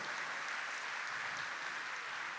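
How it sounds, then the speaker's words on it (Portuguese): A church congregation applauds, a steady, dense clapping wash that fills the whole moment at an even level. "Vamos aplaudir essa graça de Deus sobre nós."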